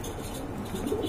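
Pigeons, a pair of Danish breed birds at a market, coo softly and steadily in a low murmur, a faint continuous cooing with no talk.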